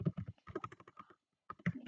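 Quick, light taps of a computer keyboard, spaced in short bursts with a brief pause midway, close and fairly quiet.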